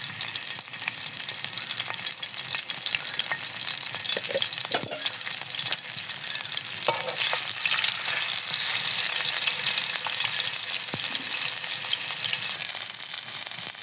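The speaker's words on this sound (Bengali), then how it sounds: "পরিবেশনের জন্য একটা বড় টুকরা গোশ রেখে দিয়েছি, তা একটু ভেজে নেব।" Continuous crackling sizzle of a large piece of meat frying in a hot pan, close and steady, with occasional clinks of stirring.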